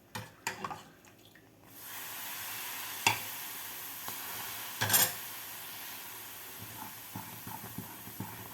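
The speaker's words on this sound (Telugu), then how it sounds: "ఈ నూనె కొంచెం కొంచెం పోసుకుందాము నూనె అయ్యే వరకు అలా పోసుకుంటా కలుపుకుంటూ ఉండాలి" A spoon stirs Mysore pak batter in a pan as oil is poured in little by little, a steady sizzling hiss with scattered scrapes and taps against the pan, fairly quiet throughout.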